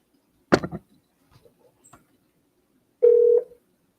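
A phone call is placed again to reach someone back: one sharp clack, a few faint taps, then a single steady electronic tone lasting about half a second.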